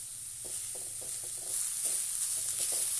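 Curry cooking in a pan over a low flame, with a steady bright sizzle and a few soft stirring taps, close and continuous, with no talking.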